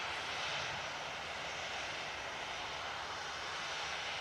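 Turkish Airlines jet about to rotate on its takeoff roll at Manchester Airport, a faint steady wash of jet engine roar with a broad hiss, unchanging across the short stretch and without talk.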